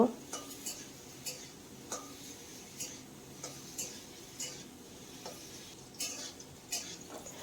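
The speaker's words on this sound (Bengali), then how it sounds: "আর একটু লাল লাল করেই আলুটাকে ভেজে নেব।" Potatoes frying in a pan are stirred with a metal spatula, giving sharp clinks and scrapes against the pan at irregular intervals over a low, steady background.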